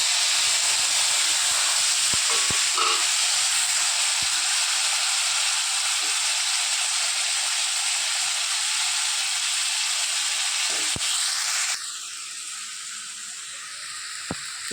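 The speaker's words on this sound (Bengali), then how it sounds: "এবার এর মধ্যে আমি টমেটোগুলো দিয়ে দেবো, ছেড়ে দেবো।" Tomatoes dropped into a hot pan of oil tempered with dried chilli, mustard seeds and nigella sizzle with a loud, steady hiss that holds for about twelve seconds, then settles to a quieter fizz.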